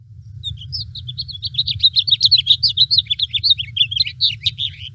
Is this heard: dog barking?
no